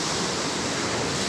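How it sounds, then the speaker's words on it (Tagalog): Ocean waves crash and break at a surf beach in Zambales, a steady, loud broadband wash of surf and spray filling the whole moment without pause or voices. "Katulad nun bilang bagsak yung alon."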